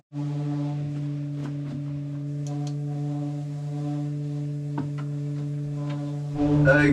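Power sander working on boat stanchion bases outdoors, giving a steady, loud, unbroken droning hum with a few faint clicks, then rougher noise at the end.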